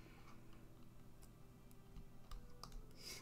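Rapid, uneven computer mouse clicking during a Gothic Online game session, a steady stream of faint, close ticks over a low background hum with no voices.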